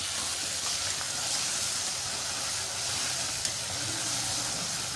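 Steady sizzling from a hot pan as garlic and ginger fry, crackling and hissing continuously at moderate volume, with no voices.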